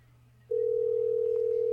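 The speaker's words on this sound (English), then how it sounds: "Let's call them back and harass them. Let's do that right now." A telephone dial tone sounds during a call back to a caller, a steady, loud, unbroken tone that starts abruptly after a faint hum and holds to the end with no voices.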